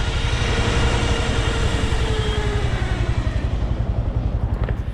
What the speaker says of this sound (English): I have no idea why that chain is making that grating noise